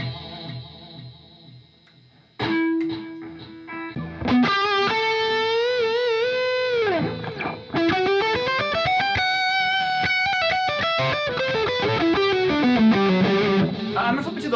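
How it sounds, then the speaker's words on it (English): A guitar runs through a 1985 Yamaha SPX90 multi-effects unit set to a long delay, with notes repeating and trailing out in a sustained tail. The phrases play loud and continuous with no talking over them. "Wow, look how long the tail is on that delay."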